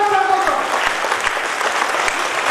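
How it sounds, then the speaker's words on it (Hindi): Seminar audience on healthy living claps to welcome a speaker, loud close applause with dense sharp hand claps throughout. "जबरदस्त तालियों के साथ स्वागत किया जाएगा"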